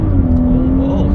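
A BMW 340i engine revving hard under acceleration, a loud steady drone rising slightly in pitch, close and dominant for a brief burst.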